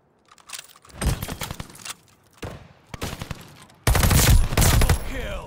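Cooper Carbine bursts ring out in Call of Duty Vanguard, several loud clusters of rapid automatic shots separated by short pauses, the last and heaviest burst close and dense.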